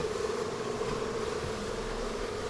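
A swarm of bees during a bee rescue, heard as a continuous droning buzz, close and steady, with no voices.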